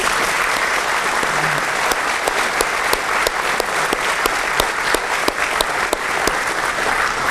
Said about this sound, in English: let's give all of our honorees a round of applause